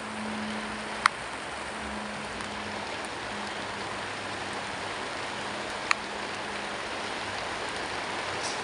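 Steady heavy rain falling outdoors, a dense even hiss with no voices and a couple of faint sharp ticks.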